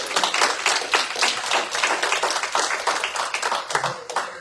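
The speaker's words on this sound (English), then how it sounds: "I just wanted to give a round of applause to former Senator Trujillo, Ivan Trujillo" A round of applause at a senate meeting, with many people clapping in a quick, crisp, fairly close patter that carries on evenly for several seconds without speech.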